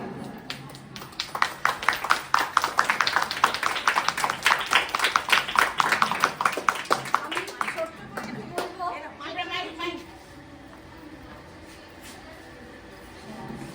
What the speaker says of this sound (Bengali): সবাই শুভ্রাকে একটা জোরে হাততালি